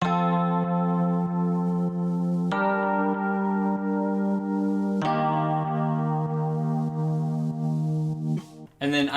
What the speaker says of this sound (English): I also added Rhodes, because I feel like Rhodes are such a Christmassy sort of sound.